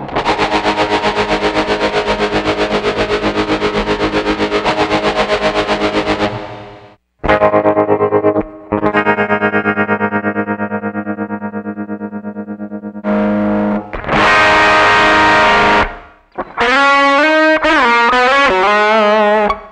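Electric guitar played through preset patches on an Ammoon Pockrock processor, loud and heavily effected: a long distorted chord, then sustained notes, short choppy bursts and a quick run of effected notes.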